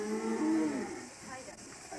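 Black wagyu cattle on a Japanese family farm low in a single drawn-out moo, fairly close and clear, with faint background afterward.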